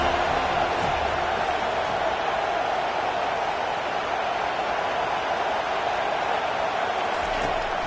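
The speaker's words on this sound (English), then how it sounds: "Decibels rising as the crowd gets behind this defense on 3rd down." Stadium crowd in a college football video game rising on a third-down defensive stand, a dense, loud, continuous roar of broadband noise that holds steady throughout.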